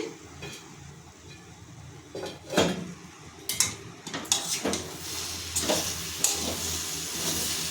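A pot lid lifts with a metallic clatter off drumstick leaves simmering in a pan, followed by clinks of pot and utensil over a soft sizzling hiss, all close and fairly quiet.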